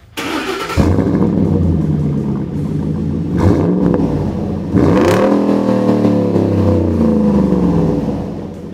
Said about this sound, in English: our Raptor now sounds just as aggressive as it looks